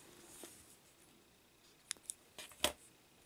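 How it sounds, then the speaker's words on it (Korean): Scissors trimming excess fondant from a miniature strawberry bunny cake: a few faint, close snips and clicks, quiet and sparse, with the last snip the loudest, in an otherwise hushed setting. "그런 다음에 나머지는 가위로 제거하면 되죠."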